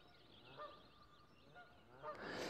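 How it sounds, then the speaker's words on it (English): Several geese honk in the distance in the English Lake District, faint and irregular, with overlapping calls against a quiet outdoor background. "There's some geese over in the far corner, obviously having a very heated conversation."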